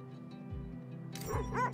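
Dogs in the video game The Red Lantern yip and whimper at feeding time, a few short high barks and whines close by over a low background hum.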